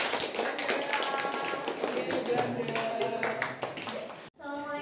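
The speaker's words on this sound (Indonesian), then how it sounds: "Tepuk tangan." Classroom applause from students as a group is invited to present, a dense burst of rapid claps from many hands lasting about four seconds before cutting off.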